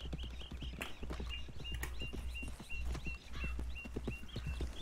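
Horse hooves clip-clop steadily in the video game Red Dead, a brisk even rhythm of close hoof strikes on the ground under ambient game sound, with faint chirping birds above.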